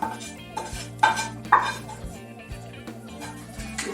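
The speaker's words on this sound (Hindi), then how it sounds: "हम ये मिक्स कर देंगे। जो हमने आधे घंटे के लिए पहले रखा था, सूजी और दही, इसके अंदर में डाल दिया हमने ये वाला मसाला।" A metal spoon stirs and clinks against a bowl of semolina and yogurt batter with spice mix, giving close scraping strokes with a few sharp rings over background music.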